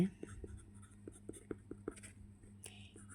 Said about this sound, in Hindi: पहले मैं लिखती हूँ यहाँ पे